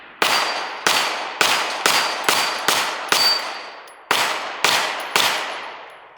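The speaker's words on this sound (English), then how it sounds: "Ben is about to shoot the Norma ammo that gave us problems in the factory mag" A Fusion XP Pro pistol fires Norma ammunition from a KCI magazine: nine sharp, loud, echoing shots, mostly in quick succession with one short pause, and no talking.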